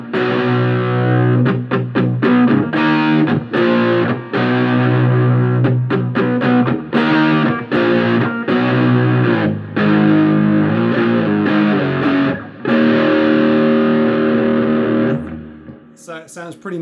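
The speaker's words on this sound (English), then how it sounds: "So here are some crunch sounds, back to the bridge, tiny bit of reverb" An Epiphone Slash Les Paul electric guitar on its bridge pickup plays a crunchy, distorted tone with a touch of reverb, strummed chords and riffs loud and alone before fading out near the end.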